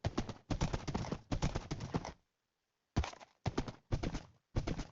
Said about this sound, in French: J'ai même trouvé un cheval.